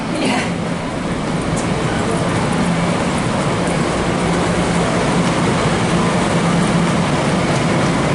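A New York City subway train pulls away with a dense, continuous roar and rattle that holds loud and even throughout, with no voices standing out.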